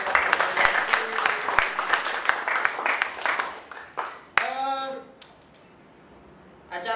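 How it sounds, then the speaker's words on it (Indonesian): An audience at an Imagine Cup event claps in a dense burst of applause that thins out and fades after a few seconds, with a voice heard over it before it picks up again at the end. "Tepuk tangan buat Microsoft Indonesia."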